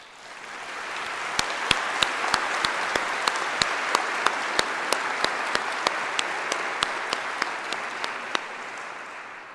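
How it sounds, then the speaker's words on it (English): Steady applause from nursing graduates at a Bon Secours Memorial College of Nursing commencement ceremony, with dense crowd clapping and a few sharper individual claps standing out, building slightly and holding throughout. "Give yourselves a round of applause because you have earned it."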